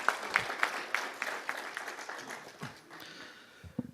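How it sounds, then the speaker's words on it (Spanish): Congregation in a Spanish-language church applauds a brother coming to the pulpit, a fairly faint, uneven patter of claps with a few sharp distinct strikes early on, thinning out toward the end. "Un aplauso para mi hermano."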